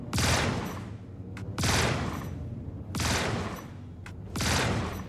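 Ship cannons in Star Citizen blast repeatedly at an enemy shield, mostly dominance-type guns, in loud sustained bursts of rapid fire separated by short pauses, with no talk.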